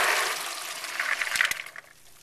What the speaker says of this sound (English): Okay, here we go, draining the beans.